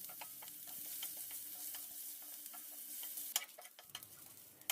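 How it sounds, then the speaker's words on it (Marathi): Chopped onion fries quietly in a little oil, a soft continuous sizzle with occasional faint ticks and stirring clicks, fairly distant and low in level. "एक मोठा कांदा घेतला आहे चिरून आणि तो सुद्धा मी थोडंसं तेल घालून भाजून घेणार आहे"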